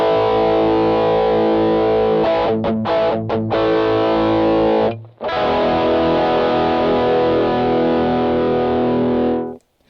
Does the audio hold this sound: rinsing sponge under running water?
no